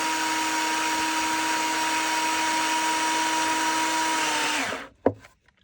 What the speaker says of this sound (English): So now I'm going to screw that second one in.